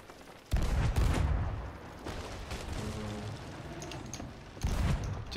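Cannon fire in a pirate ship battle video game, heavy booming blasts in uneven bursts with a rumbling lull between, loud and close.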